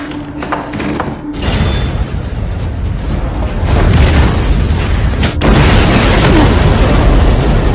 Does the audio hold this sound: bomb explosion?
yes